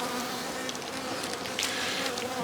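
Honey bees hum in a dense, steady buzz at an open hive during a late-season inspection, many insects droning close by without pause and no voices over them.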